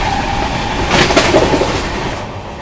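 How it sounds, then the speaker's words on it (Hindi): Howrah–Barmer superfast express train going past, a loud rushing roar with rhythmic clatter of wheels that swells in the middle and fades toward the end. "हावड़ा से चलकर बाड़मेर की ओर जाने वाली सुपर फास्ट एक्सप्रेस आ रही है"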